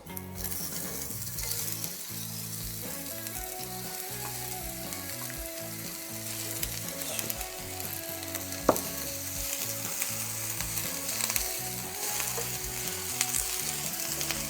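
Chopped onion sizzles and crackles steadily in hot oil in a pan nearby, with occasional stirring clatter and no voices.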